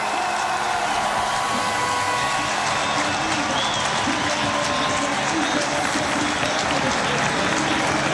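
A dense velodrome crowd roars and applauds continuously as Fabian Cancellara rides onto the track at the finish of Paris–Roubaix 2010, a loud, steady wall of cheering with commentators talking over it.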